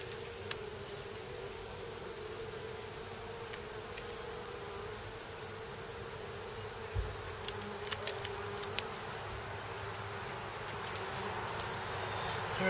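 Honey bees buzz steadily in an open hive, a continuous close drone with faint rustling and small knocks of hive equipment throughout.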